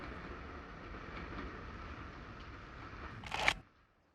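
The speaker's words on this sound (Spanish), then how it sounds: "La moderna máquina, conduciendo los cómodos vagones, entra al andén" A modern locomotive hauls passenger carriages into a station platform with a steady, rumbling roll. A single sharp click sounds near the end as the noise fades.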